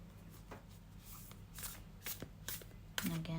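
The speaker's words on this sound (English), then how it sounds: "And again, shuffle with intention." A deck of tarot cards is shuffled by hand in repeated riffling bursts, close and crisp, with a brief low tone near the end.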